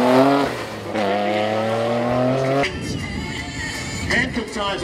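A race car on slick tires pulls away, its engine revving through rising gears, loud and close, then fading into the distance. A commentator talks over the sound.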